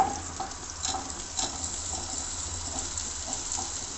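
Onions frying in a little oil in a pan, a steady moderate sizzle with faint scraping and clinks, close by and without speech.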